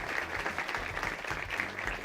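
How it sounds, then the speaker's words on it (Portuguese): Applause from an audience welcoming guests at a debate in Brazil's Chamber of Deputies, a steady dense clapping that fills the room at moderate volume. "Uma salva de palmas"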